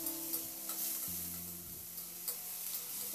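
Chopped onion, ginger and garlic frying in a pan, a quiet steady sizzle with a few soft scrapes and taps as a spoon stirs them.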